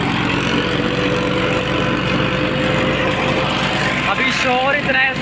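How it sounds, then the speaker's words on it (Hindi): Loud, steady tractor engine drone with an attached wheat thresher running throughout, in Punjab, Pakistan, with a voice faintly audible beneath the noise near the end. "अभी शोर इतना है इसका ट्रैक्टर का"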